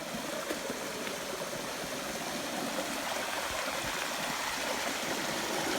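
A forest stream in dense jungle rushes and splashes in a steady, full wash of water noise that stays constant throughout, with no voices.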